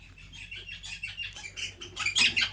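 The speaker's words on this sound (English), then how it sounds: "Can you hear those birds?" Birds chirp and tweet in quick, bright spring bursts close by, several calls overlapping over a low steady background hum.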